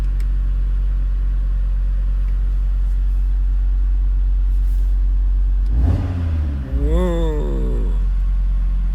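A small, powerful car idles with a low steady rumble, then a sharp rev rises and falls near the end as a button changes its sound; no one speaks over it.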